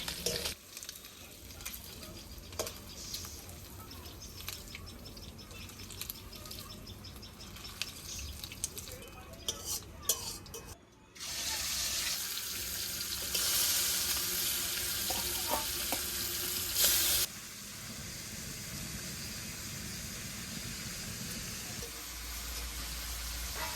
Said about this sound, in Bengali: এই কটা লাল লাল করে ভেজে নেবো এর মধ্যে